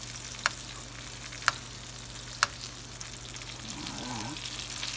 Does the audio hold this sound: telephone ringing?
no